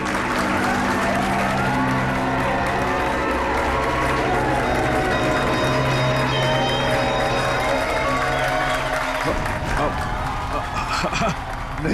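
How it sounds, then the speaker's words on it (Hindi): An audience claps and cheers at a staged magic-box act, the applause mixed with background music and crowd noise throughout. "तालियां!"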